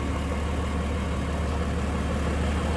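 A 1946 Plymouth Special De Luxe with a 6-volt system idles smoothly and steadily up close, a continuous low engine rumble with no pauses or talk over it.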